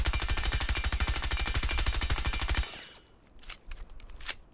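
Sledge's suppressed rifle in Rainbow Six Siege fires a rapid, steady automatic burst of muffled thumping shots for about two and a half seconds, then cuts off, leaving quieter clicks and small sounds.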